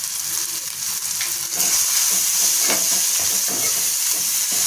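Washed dried shrimp tossed into a pan of turmeric, Kashmiri chili and Agri masala sizzle and hiss loudly up close, with a steady frying crackle and occasional stirring scrapes, no voices.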